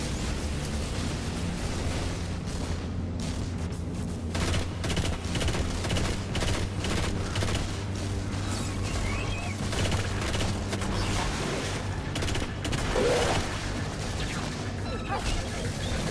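Machine gun fire in the shooter video game Destiny: Rise of Iron, a dense continuous clatter of automatic shots and distant booms layered over a steady game soundtrack hum.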